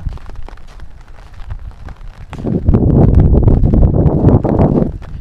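Breeze blowing outdoors at a picnic spot with swings in Bakkhali, heard as rushing wind noise on the microphone that is moderate at first and then swells into a louder, steady gust, with no talking.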